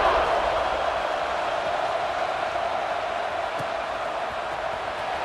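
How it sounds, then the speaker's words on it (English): Football stadium crowd at a college game at Florida keeps up a steady, dense roar and murmur after a score, continuous and fairly loud throughout without distinct cheers. "this crowd is buzzing after that last score"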